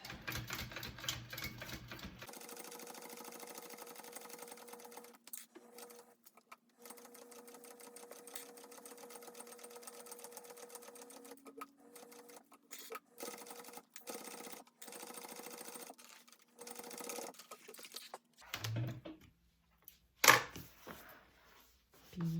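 A domestic sewing machine stitches an inside curve on a crossbody bag, its rapid mechanical chatter running in close, steady bursts with brief pauses between runs of stitching.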